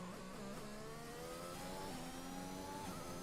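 Formula 1 car engine on a hot lap around Zandvoort in a racing video game, a steady high-pitched whine with rising and shifting harmonics as the car accelerates through the gears, continuous and fairly close.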